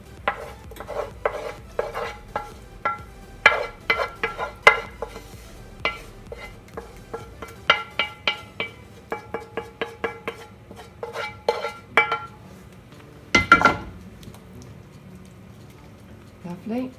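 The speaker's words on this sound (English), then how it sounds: "Mix that up nicely." A nettle frittata mixture stirred in a bowl, with repeated close clinking scrapes of a utensil against the bowl in an uneven rhythm and a louder clatter near the end.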